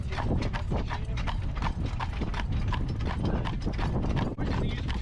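Steady clip-clop of horse hooves on pavement as a horse pulls a rattling, creaking covered buggy rolling along close by, continuous and fairly loud.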